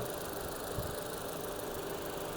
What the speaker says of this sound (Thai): เสียงเครื่องยนต์ก็เดินดี